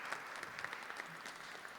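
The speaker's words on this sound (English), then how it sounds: "Can we give her an applause in absentia?" Audience at a performance event applauding, a brief spell of soft, fairly distant clapping with scattered sharper claps and no one talking.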